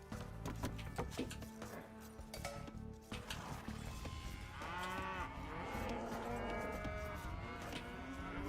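A cow in the Age of Empires II video game lets out a couple of drawn-out moos over a busy layer of game sounds, with no talking.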